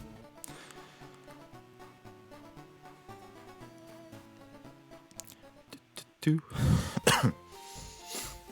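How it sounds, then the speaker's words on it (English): Several loud, harsh coughs burst out close by near the end, following a stretch of quiet background music. "As you can tell, I'm still coughing a little bit"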